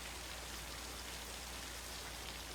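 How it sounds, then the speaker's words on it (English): Steady rain pours in a film scene, a dense, even hiss of falling water with no breaks across the short stretch, fairly faint and alone with no voices. "Gee, I'm sorry I didn't hear you in all this rain"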